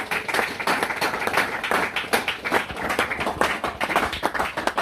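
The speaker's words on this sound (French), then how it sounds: "Acclamons pour la gloire du Seigneur." A church congregation claps together in a steady, rhythmic burst of applause, loud and filling the room.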